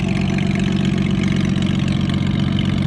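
A gas combine engine idles through a temporary straight pipe, giving a loud, steady low rumble that fills the whole stretch with no talk over it.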